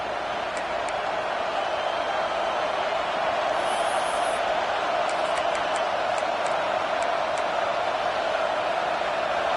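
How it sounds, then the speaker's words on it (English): Auburn football stadium crowd at a college game against FSU, a steady broad roar of many voices filling the whole stretch with no single voice standing out. "This Auburn crowd trying to conjure up a little magic here on 3rd down."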